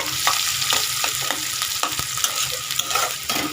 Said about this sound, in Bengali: একটু ভাজা ভাজা করে নেব দেখতে পাচ্ছ আদা ভাজা আদা ভাজা হয়ে গিয়েছে